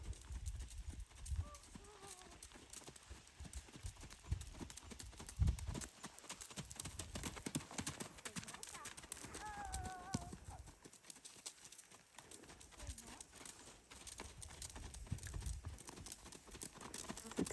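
A pony trots through a riding lesson, hooves beating a steady clip-clop rhythm on the arena ground, with a few faint whinny-like calls and a rider or instructor speaking now and then.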